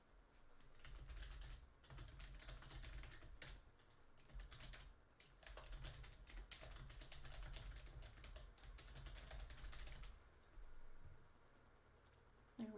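Rapid clicking on a computer keyboard while a PC game is played, a dense close run of keystrokes that briefly eases off and then picks up again, with no talking.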